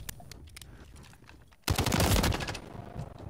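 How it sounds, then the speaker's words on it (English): A Renetti pistol fires in fast bursts in Modern Warfare 3 on the Favela map, a quiet lead-in breaking into a loud, dense run of close shots that fades off. "I was like, why is this thing firing so fast? It's a burst."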